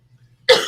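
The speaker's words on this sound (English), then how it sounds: "I just got this dry cough thing going." A single dry cough comes out sharp and loud after near silence.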